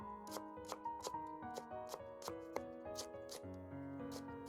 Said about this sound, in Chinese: 再改刀切细丝。